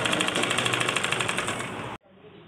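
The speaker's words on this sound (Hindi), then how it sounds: "अब सिलाई लगाएंगे किनारे पे।" Sewing machine stitching the edge of a blouse, a loud, rapid, evenly pulsing whir for about two seconds before it abruptly stops.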